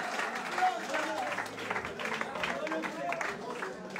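An audience at a gospel preaching event at a foundation claps in a steady, moderate patter, mixed with a voice talking over it.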